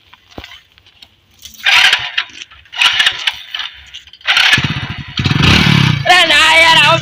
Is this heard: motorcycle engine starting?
yes